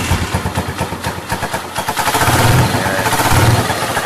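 A CPI DTR 150 motorcycle engine starts with a quick burst of cranking pulses, then settles into a steady, loud, close idle with a rhythmic mechanical clatter throughout.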